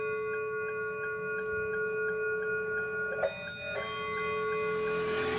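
A novelty vehicle horn imitating a horse-cart (delman) horn plays a repeating melodic chime pattern with a steady sustained tone beneath it, joined by a brief brighter burst midway, alone without talk.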